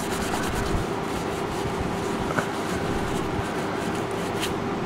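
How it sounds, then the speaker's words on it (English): Steady close-up rubbing on a guitar during a re-crown job, a cloth working cleaner over the fretboard to lift dirt, continuous scrubbing strokes with no talking. "let it soak in a bit, and then just rub the crap out of it, get all that dirt off there"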